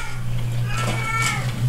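A cat's harsh, screechy cry in the video game Erie rises over a steady low electronic hum, with a brief second yowl near the end.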